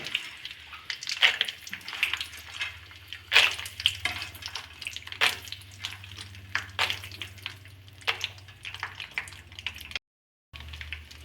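Boondi batter drops fry in hot oil for homemade mixture, with a soft ongoing sizzle broken by repeated sharp spatters and clinks of a slotted spoon, close by.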